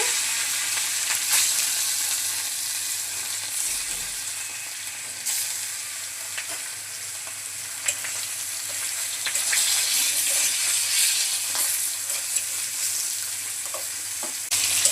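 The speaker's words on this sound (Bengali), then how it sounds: "তেল গরম হয়ে গেছে মাছগুলো দিয়ে দিচ্ছি" Salt-and-turmeric-rubbed fish fries in hot oil in a kadai, a loud, steady, close sizzle with faint crackles and occasional stirring clatter, with no voices.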